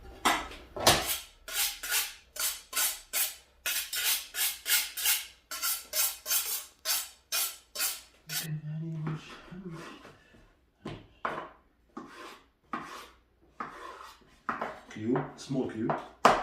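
A knife chops squash into small cubes on a cutting board in a home kitchen, with rapid regular taps for the first eight seconds, then slower scattered knocks and board clatter up close.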